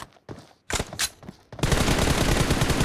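Rapid gunfire between players in a shooter video game tournament match, a few sharp shots at first, then a dense, loud continuous burst of automatic fire with no talking.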